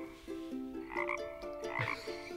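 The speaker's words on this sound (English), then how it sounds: "Yeah, a frog, that's right." A frog croaks in repeated throaty, pulsing calls, clear and close, in an otherwise quiet setting with no talking.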